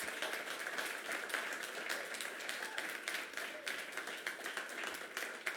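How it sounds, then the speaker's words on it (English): Steady audience applause fills a gala evening hall, many hands clapping continuously at moderate volume for several seconds with no voices rising above it. "Let's give them all a round of applause."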